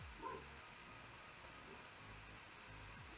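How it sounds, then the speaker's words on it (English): A faint dog barks once in the distance, muffled and brief, likely from elsewhere in the house, against a quiet background. "I'm sorry if you hear a dog barking."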